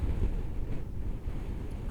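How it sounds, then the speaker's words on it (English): Strong wind buffets a hilltop parking area, a constant low roar with gusty microphone rumble and no voices. "Now it's a bit windy, admittedly"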